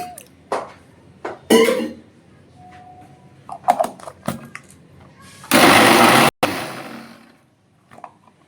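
An electric grinder whirs through mustard seed and water to make a paste for sorshe ilish, hilsa in mustard sauce, in one short, loud, steady burst amid scattered kitchen clatter.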